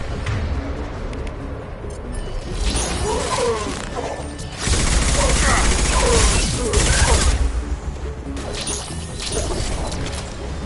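A high-impact shot fires in the Mass Effect video game, with sharp crashing and shattering bursts over dense combat noise that swells into a loud, sustained stretch midway, with voices speaking around it.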